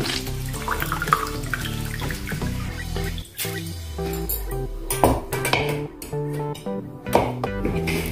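Water draining from grated potatoes in a kitchen, pouring and trickling with drips and a few knocks of the vessel, close and steady, no talking.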